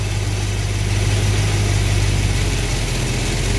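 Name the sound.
car engine speeding up as the distributor is turned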